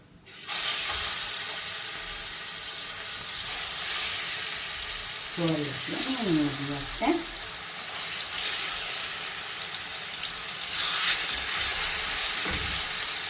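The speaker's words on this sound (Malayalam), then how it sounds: "മീനൊന്ന് പൊരിച്ചെടുത്താലോ." King fish frying in hot oil, a loud, continuous sizzle and crackle close by, with a brief tonal clatter partway through and no talking.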